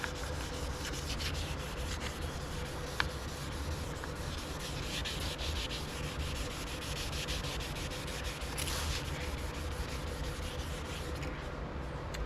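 A yellowed car headlight lens being wet sanded with 2000-grit paper by hand, a continuous close rasping rub that runs steadily without pause.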